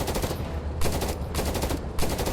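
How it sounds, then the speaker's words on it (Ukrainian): Machine gun fire in the video game Afterconflict, aimed at moving targets: three loud sustained automatic bursts, each about half a second long, with brief gaps between them and no talking. "Можна також стріляти з кулемета по рухливим цілям."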